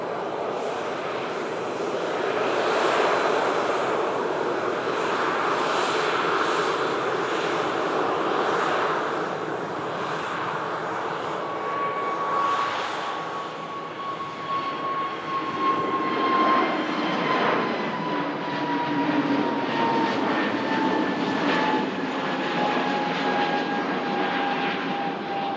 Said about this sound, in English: Beautiful KLM Neo heading back over to Amsterdam Schiphol on this Friday show